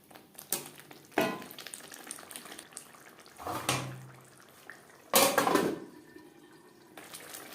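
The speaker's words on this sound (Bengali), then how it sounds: "হাই টু মিডিয়াম ফ্লেমে 4-5 মিনিট নাড়াচাড়া করে নেব।" Chana masala spices frying in mutton fat over high to medium flame, heard as a low background sizzle broken by a few sharp clanks and scrapes of a spoon stirring against the pan, close and without speech.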